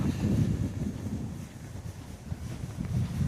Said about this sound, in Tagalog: Yan, sobrang mahangin.